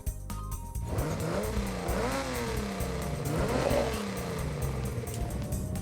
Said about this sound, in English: So we just got a turbo for the stock engine.